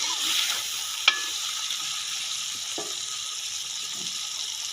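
Potatoes and spinach cook in a pan, a soft steady sizzle and hiss running throughout with a sharp clink near the start and a couple of faint utensil taps, no talking.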